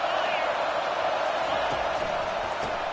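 Steady roar of a football stadium crowd cheering during a Washington vs Ohio State game, a dense continuous wash of voices holding loud and even throughout, with no distinct words emerging.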